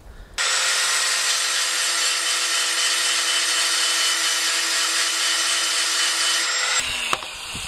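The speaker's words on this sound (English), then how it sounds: "Now it needs these like notches ground in like a ram's horn." Power grinder cutting notches into the edge of a metal sword blade, a loud, sustained, bright grinding whine that starts abruptly and runs steadily for several seconds before stopping, followed by a couple of clanks.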